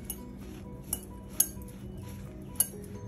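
A spoon works white-pepper-seasoned Gobi Manchurian batter around a bowl, giving soft scraping with a few sharp clinks against the rim, quiet and close, with no talk.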